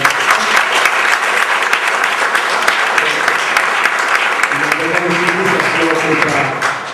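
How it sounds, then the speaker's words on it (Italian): An audience at a music industry event in Bologna gives a long, steady round of applause for the guests, with dense clapping that holds for several seconds while voices murmur beneath it toward the end. "Potete fare un applauso ai nostri ospiti."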